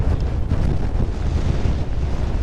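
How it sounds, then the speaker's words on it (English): Strong wind roars and buffets steadily throughout in cold weather near the Chaorainn river, a dense low rumble gusting against the microphone with no pauses. "it's windy"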